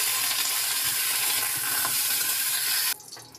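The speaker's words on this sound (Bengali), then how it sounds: "এবার আমি ফুলকপি টুকরোগুলোকে এক এক করে ভেজে নেব।" Cauliflower pieces fry in a pan of hot oil, producing a loud, steady close-up sizzle that drops off abruptly near the end.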